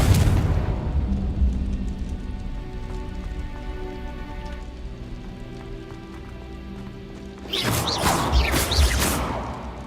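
Confringo blasting spell from Hogwarts Legacy, a soft rumbling bed with tonal hum that ends in a sudden loud crackling burst of explosion near the end, no speech.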